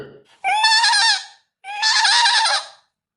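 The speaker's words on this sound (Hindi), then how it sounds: "अब कोई तलाशी नहीं होगी जब बकरियों की मिमियाने की आवाज आ रही है?" Goats bleat twice, loud and close, each call a wavering, nasal cry of about a second, separated by a brief silence.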